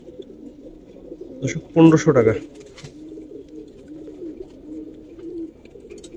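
Pigeons at a colouring-pigeon farm in Bangladesh coo in a low, continuous murmur throughout, near and steady, with someone briefly speaking over them.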